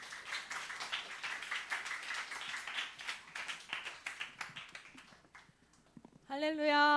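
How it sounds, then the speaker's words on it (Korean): Congregation clapping at a Sunday youth worship service in a church, welcoming a speaker to the front: a dense, steady patter of many hands that thins out and fades, then a sustained musical tone takes over at the end. "우리 혜수 쌤 나올 때 한번 박수로 환영해 볼까요?"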